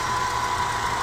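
An Opel car engine runs at a steady, loud, continuous drone up close with a constant mechanical hum, sustained throughout the brief moment after a throttle request during a workshop repair check, no voices.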